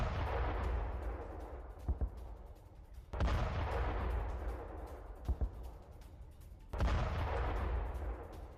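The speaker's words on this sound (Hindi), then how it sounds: "इराक के किरकुक में भीषण बमबारी" Heavy bombardment hits a pro-Iran Al Hashd Al Shaabi militia base in Kirkuk, Iraq: a continuous loud roar of artillery fire with sharp booms near the start and middle, plus sudden blasts at about three and seven seconds. No voices.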